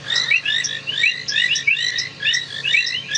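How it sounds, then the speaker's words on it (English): Painted reed frogs calling in an African bush at dusk, a steady chorus of rapid high-pitched ticks and clicks repeating in quick rhythmic bursts, moderately near with no talking. "We've got the painted reed frogs, which are ticking away."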